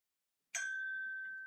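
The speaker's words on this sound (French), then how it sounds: "Ah, une notification." A single bright notification ding strikes cleanly out of silence and rings on with a sustained, slowly fading metallic tone; no voices are heard.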